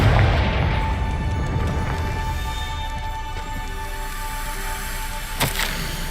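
A Confringo fire blast spell explodes in Hogwarts Legacy, a low booming rumble that lingers across the stretch, with a sharper crack bursting near the end.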